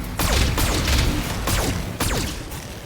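A BattleTech mech fires a full weapons volley: several loud, rapid blasts with whistling streaks, spaced roughly half a second apart, over a continuous rumble.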